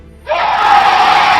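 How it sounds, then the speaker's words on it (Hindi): A woman screams loudly in a frightening voice, a sustained shrill cry that bursts in after a brief silence and holds steady to the end, with no talk over it. "उसकी आंखें पूरी काली थी और वो डरावनी आवाज में तेजी से चिल्लाती"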